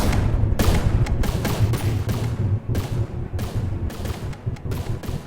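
Rapid, dense gunfire pours from a warship's guns in a naval combat video game, a continuous barrage of overlapping loud shots and booms with no talk.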